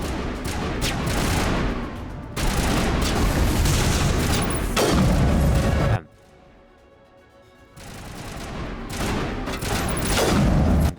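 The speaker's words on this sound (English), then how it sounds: "They're shooting at someone else." Sustained gunfire in Mass Effect Legendary Edition, loud dense volleys of shots and booms in bursts, broken by a brief quieter lull, with no talk.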